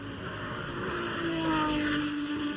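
A race car at a GRIDLIFE Circuit Legends time attack event powers along the track. Its engine drone and exhaust hold steady and loud, swelling slightly toward the middle, with a clear sustained tone and no talk over it.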